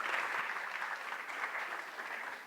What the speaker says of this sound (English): Can we have a huge round of applause for him as well?